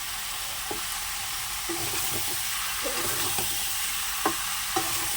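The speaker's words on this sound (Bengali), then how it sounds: "আর এই যে মাংসটা কষিয়ে নিচ্ছি" Meat frying and being stirred in a pan, a steady close sizzle with intermittent scrapes and knocks of the spatula, no voices present.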